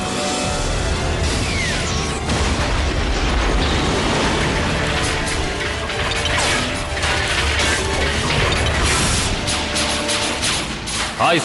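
Cartoon HISS prototype tank from G.I. Joe Renegades under plasma fire, a dense, loud mechanical clatter of grinding gears and ratcheting parts mixed with continuous blasts and rumbling explosions throughout.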